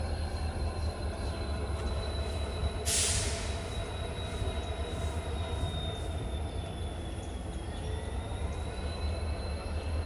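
A passenger train at Nilambur Road station rolls along with a sustained high-pitched wheel squeal over a steady low rumble, heard close and continuous, with a short burst of hiss partway through.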